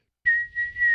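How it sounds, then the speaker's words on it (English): A fax machine gives a single steady, high whistling tone that starts abruptly and holds for under a second, clear and fairly loud. "what is that whistling noise? Someone sending a fax?"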